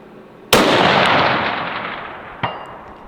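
A long-range rifle shot fired on a shooting range: one sharp, loud crack with a long rolling echo tail, followed about two seconds later by a fainter, distant report of the round striking.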